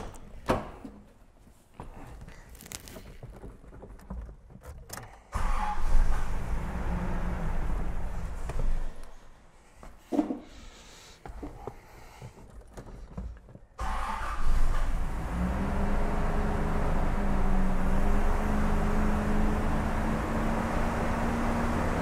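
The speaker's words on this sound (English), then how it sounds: "So we'll start the truck and see if our voltage goes up." A Toyota FJ60 truck with a charging system fault cranks in several bursts, catches, and settles into a steady idle close by. Door or mechanical clatter comes before it, and there is no talking.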